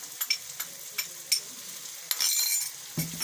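Carrots, capsicum and cauliflower stir-fried in a pan for vegetable macaroni, with short spatula scrapes and clicks at an uneven rhythm over a soft sizzle that swells near the end, close and moderately loud.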